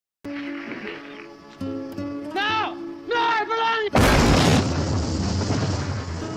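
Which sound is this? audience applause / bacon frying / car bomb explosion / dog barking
car bomb explosion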